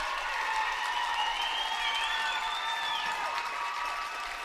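A crowd at a girls high school basketball game erupts in cheering and applause, a sustained roar with high shouts and whistle-like screams rising over a continuous wash of clapping.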